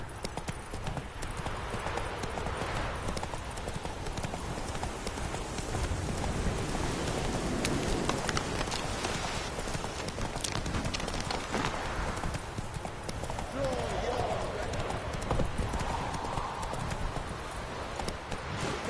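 Roach, a horse in a video game, gallops in a steady rapid clip-clop of hooves under rain, loud and close throughout, with brief voices now and then.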